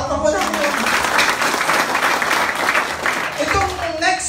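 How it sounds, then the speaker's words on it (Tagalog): A crowd applauds steadily for several seconds, a dense wash of clapping with voices briefly audible at the start and end. "Palakpak muna."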